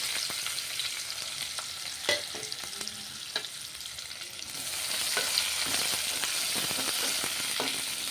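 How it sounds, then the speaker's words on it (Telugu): Finely chopped onions fry in a thick steel pot with a steady hiss of hot oil, punctuated by occasional sharp clicks of stirring, and the sizzle grows louder and brighter midway through. "ఇప్పుడు ఉల్లిపాయలు వేద్దాం సన్న కట్ చేసుకొని ఉల్లిపాయలు వేయాలి"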